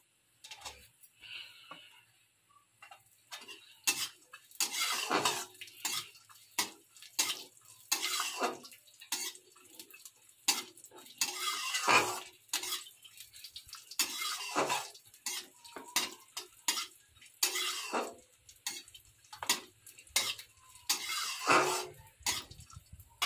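A spoon stirs raisins and other ingredients frying in a pan. Repeated close scraping and clinking strokes come in an irregular rhythm against a faint background sizzle, with no talk.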